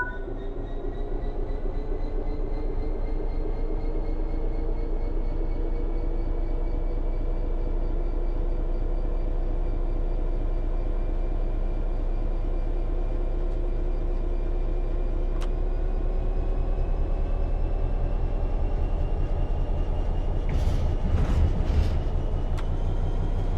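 A train in Train Sim World 3 pulls away from a standstill, its motor whine rising steadily in pitch over a low rumble and rhythmic wheel clatter, with a few sharp clanks near the end.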